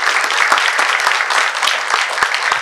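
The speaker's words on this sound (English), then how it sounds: "Can we have a round of applause for all the panelists here?" A conference audience applauds the panelists after a university entrepreneurship panel, with dense, sustained clapping filling the room at a steady, loud level throughout.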